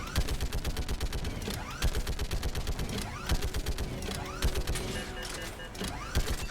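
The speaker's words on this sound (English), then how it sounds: "Jeez, how many rockets are you firing?" Dense, rapid rocket and weapon fire in a Mass Effect 3 firefight: a near-continuous barrage of blasts and bursts with whooshing launches, loud and unbroken throughout.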